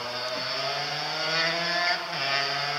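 A motorboat engine drones steadily up close, its tone rising and dipping slightly as the throttle shifts, loud and continuous with no voices.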